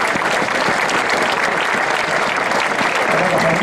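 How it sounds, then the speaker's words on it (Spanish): A crowd at a 10 km road race award ceremony claps loudly and continuously as a prize is handed over, dense applause filling the whole moment. "Un aplauso."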